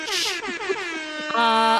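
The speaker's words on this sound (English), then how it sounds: "Let me do the hip hop air horns now" A blaring air horn blasts in a few quick, loud stuttering bursts, then holds one long steady honk at the end, close and brash.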